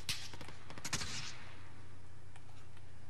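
Gunfire in Call of Duty Warzone: a loud burst of a few sharp shots near the start, then a hush of faint game ambience with a soft hum underneath.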